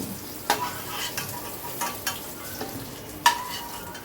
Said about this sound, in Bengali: আবারও সব কিছু ভালো করে নাড়াচাড়া করে ফ্রাই করে নিচ্ছি।